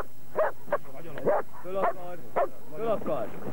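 A dog in attack-dog training barks in a quick series of loud, close, sharp barks, about eight in a row, with yelping tones between them.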